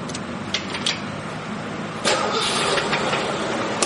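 A 1983 Ford Mustang GLX with a five-speed, a Fox-body convertible project car, cranks briefly and fires up halfway through, settling into a steady, close engine idle.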